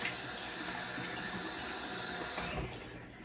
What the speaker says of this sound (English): I'll rinse the face here